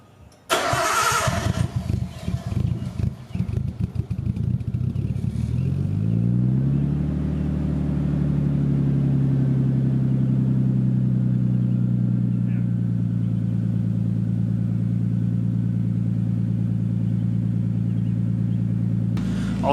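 A Nissan R32/S13 car engine cranks and fires, revs briefly, then settles into a steady, loud idle rumble as it warms up, running alone at close range for the rest of the stretch.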